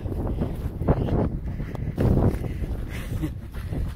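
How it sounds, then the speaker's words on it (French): Wind buffeting a microphone outdoors on a cold day, a continuous low rumbling roar with gusty surges that swell louder around the middle and fade again. "Il y a du vent. Il va falloir que je bloque le vent pour protéger le micro."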